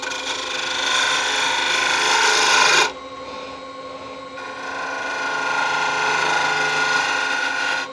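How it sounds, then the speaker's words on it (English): A detail gouge cutting a wooden wand spinning on a lathe, a continuous scraping rasp that cuts off sharply partway, then a quieter steady whirr of the turning lathe with the cutting noise resuming. "now I'm going to switch to a detail gouge so I can get these bits done"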